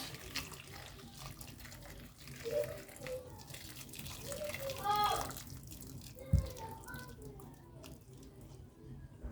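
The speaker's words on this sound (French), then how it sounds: "Je vais rajouter de l'eau chaude." Hot water is poured over a pot of cassava leaves, a moderate splashing flow with a few knocks, under faint background voices.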